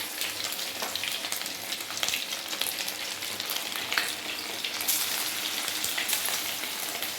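Small pieces of vadakari batter frying in hot oil, a steady dense sizzle with crackling pops that continues close and unbroken throughout, no voices.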